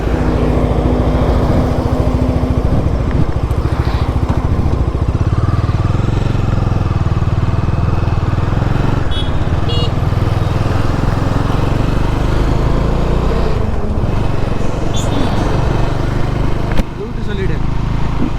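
A Bajaj Dominar 250 motorcycle rides through heavy traffic, its engine giving a loud, steady, rumbling drone throughout with wind buffeting and surrounding vehicle noise.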